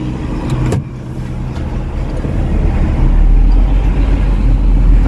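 Stalled traffic of heavy, overloaded trucks on the road near the Losarang weighbridge: a deep engine rumble that swells louder over several seconds, with a brief clack near the start and no voices.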